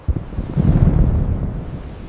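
Loud wind gusts buffet the microphone on a cold, rainy mountain day in a village, a dense low rumble that swells and holds for a couple of seconds.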